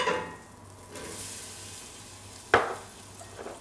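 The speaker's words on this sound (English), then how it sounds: "We can go in with our onion" Onion going into just-melted butter in a pot gives a soft, steady sizzle, with one sharp clatter midway as it lands; close and fairly quiet, no talking.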